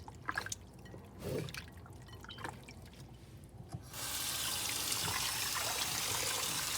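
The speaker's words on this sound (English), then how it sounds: "It's all about rinsing the chicken with some nice cool water or some vinegar." A few drips and light handling noises, then a tap gushes steadily as cool water rinses raw chicken wings in a sink, loud and continuous.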